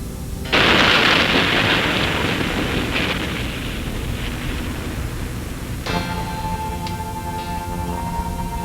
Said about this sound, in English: As man detonated weapons of immense power